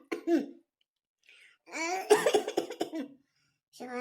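A person coughs: one short cough, then a pause, then a denser run of harsh coughs and throat clearing, and a final cough at the end. All of it is close and clear against a quiet room.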